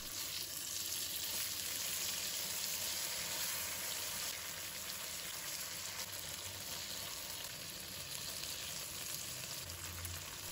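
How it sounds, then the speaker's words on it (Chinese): Tofu sears in a hot pan over high heat, a steady, close sizzle and crackle of frying oil that runs unbroken throughout with no voices. "一面煎好以后，我们再给它翻过来煎另一面，像我这样子轻轻的翻面"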